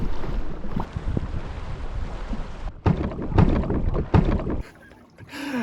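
Water sloshing and choppy splashing around a two-metre boat in Sweden as a passing big boat's wake rolls through, with steady wind noise over the microphone.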